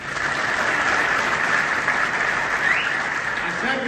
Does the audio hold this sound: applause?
yes